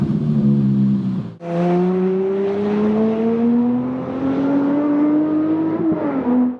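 A 7.3-liter naturally aspirated V12 sports car engine, the 750-horsepower 177, revs up loudly and close, its pitch climbing steadily after a brief cut, then dropping back near the end, with no talking.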